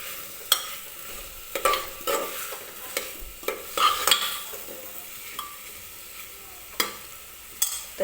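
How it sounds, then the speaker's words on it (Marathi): Masala roasting in a pan with drumstick pods and dal, a faint sizzle under repeated scraping and stirring strokes of a spoon, with occasional sharper clinks against the pan. "मी हे शेवग्याच्या शेंगेसोबत डाळ वगैरे मिक्स करून घेते, म्हणजे व्यवस्थित भाजून घेते मसाला वगैरे"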